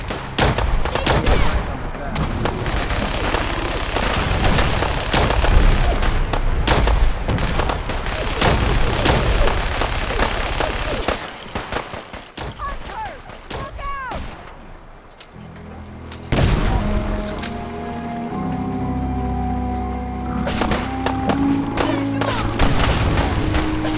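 Rapid gunfire rattles through a firefight in Fallout 4's Far Harbor expansion, dense volleys and booms crowding the first half before thinning into sporadic shots and game sounds, with voices shouting amid the fighting.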